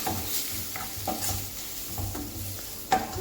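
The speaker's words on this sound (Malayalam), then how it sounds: "എന്നിട്ട് നമുക്ക് നന്നായിട്ടൊന്ന് ഇളക്കി കൊടുക്കാം." Snake gourd stir-fry being stirred in a pan over a low sizzle, with a series of close, regular scraping strokes and a sharper knock near the end.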